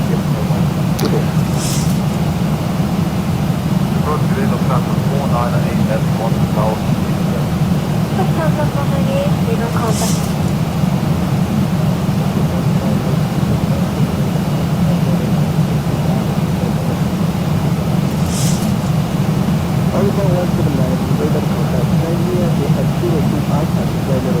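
A Boeing 737 (ZiboMod) taxis in X-Plane 12 at TNCM, its engines a steady low droning hum throughout with occasional faint clicks, while someone talks over it.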